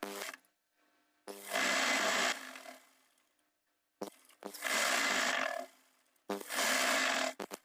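Sewing machine stitching trouser fabric runs in three bursts of one to two seconds each, close and steady, with short quiet pauses between them.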